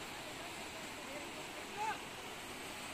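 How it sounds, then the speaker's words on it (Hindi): Water from a waterfall splashes onto a bathing platform, a steady broadband rush of falling water that fills the whole stretch, with a brief faint tonal chirp partway through. "ये झरने से पानी गिरता है"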